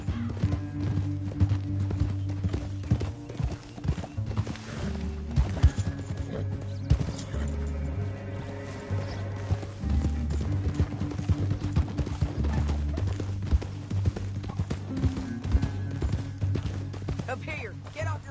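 Horses clip-clop in a steady, brisk rhythm through a Red Dead Redemption 2 canyon scene, layered under game music and talking voices.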